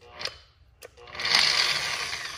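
A Bauer surface conditioning tool's motor whirs up and keeps spinning with a steady high buzzing hum and slight bearing noise, close by, after a couple of brief clicks.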